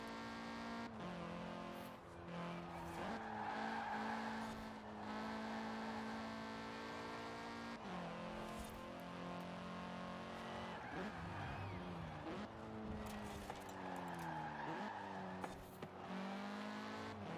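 Race car from a driving video game cornering hard on a track, engine whining up and down through gear changes with tires squealing and skidding through the turns, loud and continuous, little or no talk.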